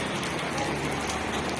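Heavy rain pouring down in Baybay City in the Philippines, a steady, dense hiss of drops on surfaces that continues unbroken throughout, with no voices.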